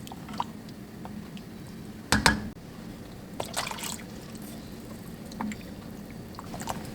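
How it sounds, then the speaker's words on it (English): Water is poured into a pan of cooked dal and vegetable mix for sambar, with a short splashing burst followed by faint drips and quiet liquid sounds. "Add some water to adjust the consistency"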